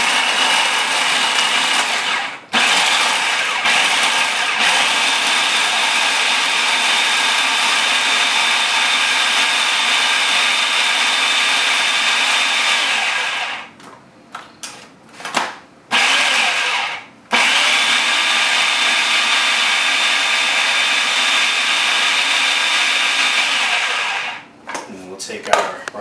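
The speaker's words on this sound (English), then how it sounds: "we'll put them in the food processor with just a little bit of lime juice and just hit them with a quick pulse" A food processor whirs loudly in a long continuous run while pulsing avocados with a little lime juice for guacamole, briefly stopping and restarting partway through before winding down near the end.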